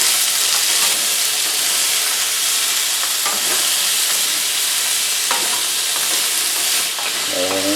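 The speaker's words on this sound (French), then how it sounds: "on fait sauter les poivrons pendant une minute ou à peu près" Bell peppers and pineapple sautéing in a hot pan for a sweet-and-sour pork dish, a loud continuous hiss and crackle with occasional stirring scrapes.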